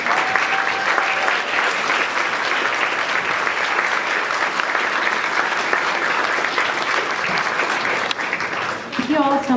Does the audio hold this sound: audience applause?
yes